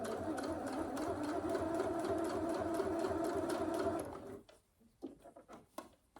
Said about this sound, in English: we're going to continue to edge stitch along the bottom of our pocket